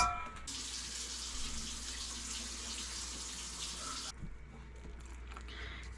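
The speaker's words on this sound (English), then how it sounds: "let's add 2 1/2 cups of water and then we'll see how it looks" Tap water runs steadily into a bowl of flour while waffle batter is being mixed, a continuous close splashing stream that cuts off abruptly, followed by a few faint clinks.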